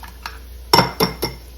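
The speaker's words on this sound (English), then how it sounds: "I'm going to beat them up with this little switch" Three eggs beaten with a small whisk in a bowl for an omelette, giving a few sharp clinks and taps of the wires against the bowl, spaced apart and fairly close.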